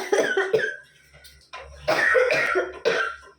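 Harsh, close coughing from someone irritated by the smell of chillies, in several throaty bursts with short gaps between them.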